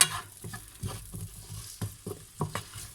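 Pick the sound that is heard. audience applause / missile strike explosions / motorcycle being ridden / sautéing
sautéing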